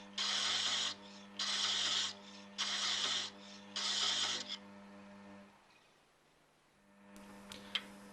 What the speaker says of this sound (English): the teeth are brought into contact with the wood as the tool is being smoothly traversed across the spigot